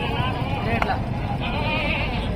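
A goat bleats amid the bustle of a livestock market in Dera Ghazi Khan, its cry cutting through steady crowd chatter and traffic noise, with people talking nearby.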